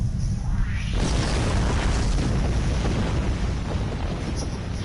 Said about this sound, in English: Get away from the explosion, get away from the explosion.